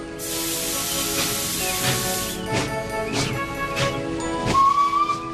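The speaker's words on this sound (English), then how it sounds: "the driver pulled the lever and Edward puffed away" A steam locomotive puffs away, with rhythmic chuffs of steam over a long hiss and a faint whistle tone near the end.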